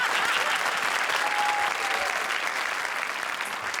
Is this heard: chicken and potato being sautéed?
no